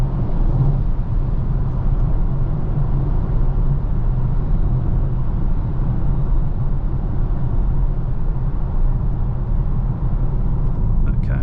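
A Polestar 2 electric car on the road, heard from inside the cabin as a loud, steady, low rumble of road and drive noise that holds constant throughout.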